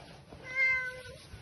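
A single drawn-out meow from a cat, a clear tonal cry that swells and fades over about a second, heard alone against faint background noise.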